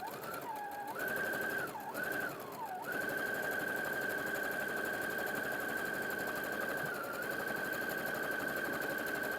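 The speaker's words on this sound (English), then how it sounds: "we're going to do another line stitching with a 1 centimetre seam allowance along here" A sewing machine stitches a seam line with a 1 cm seam allowance, running in a steady, close mechanical whir after a couple of brief starts and stops, with no talking.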